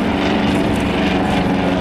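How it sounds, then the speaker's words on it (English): A reproduction BE-2 biplane dives at an airshow with an SE-5A fighter close behind, producing a loud, continuous propeller engine roar that holds steady through the whole short stretch. "And it's diving in here with one of the SE-5As on its tail."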